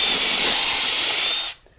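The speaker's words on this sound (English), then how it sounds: "Then I'm going to go ahead and drill the first hole here at the bottom." A power drill boring a shelf pin hole through a Kreg shelf pin jig clamped to a cabinet base, a steady high whine with a hissy edge that runs evenly for about a second and a half, then cuts off abruptly.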